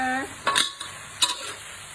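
Instant noodles with pork are stir-fried in a pan, a few short bursts of sizzle and utensil scraping against the pan over a faint background hum.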